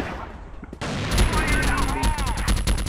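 An RPK machine gun fires rapid, loud bursts in the video game CrossFire. The fire stays close and continuous, with a brief quieter lead-in before it.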